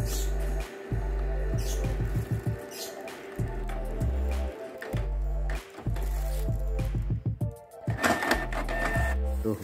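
A Canon iP2770 inkjet printer runs a page, with repeated low mechanical whirs and rhythmic bursts of clicking and stepping as the print head and paper feed move in cycles, close to the microphone.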